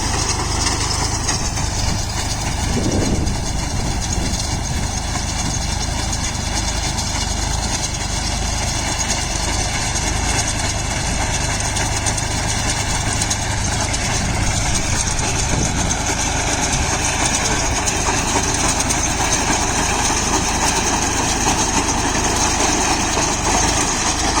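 A Sonalika Tiger DI 50 4WD 52 HP tractor engine runs while driving its PTO, giving a loud, steady, unbroken drone that holds at the same level throughout, with no speech.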